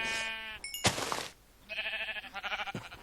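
Sheep bleating in the video game Minecraft, a few wavering nasal bleats close up with a short burst of noise between them, and no talking.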